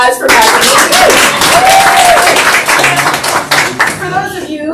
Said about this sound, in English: Round of applause for Maggie.